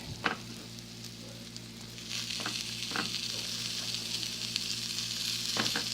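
Rice-A-Roni four cheese rice sautéing with cooked diced ham in a pan, a continuous close sizzle broken by a few spoon scrapes, with a low steady hum beneath.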